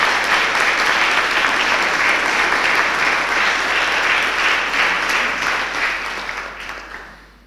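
Graduates at a college graduation ceremony in Cork applaud and cheer, a dense, steady wash of clapping that holds strong for several seconds before gradually fading out.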